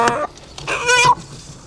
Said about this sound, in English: We bought 3 Rhode Island red roosters.